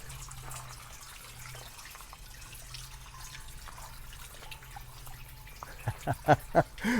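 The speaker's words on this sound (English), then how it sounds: "Love this water feature." Water trickles and drips softly and steadily close by, with a low hum beneath and a few louder splashing drips toward the end.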